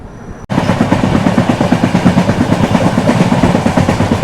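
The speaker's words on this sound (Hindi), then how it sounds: "लगभग अपने तय समय से 18 मिनट डिले हम डिपार्ट कर रहे हैं कनूर रेलवे स्टेशन से" Rajdhani Express pulling out of Kannur railway station, heard from inside the train as a loud steady rumble with rhythmic wheel clatter after an abrupt start.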